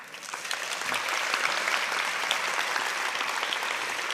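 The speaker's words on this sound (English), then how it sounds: "give them a round of applause" A graduation audience at the Singapore Institute of Technology bursts into steady, dense applause that fills the hall evenly from start to finish, with no voices standing out above the clapping.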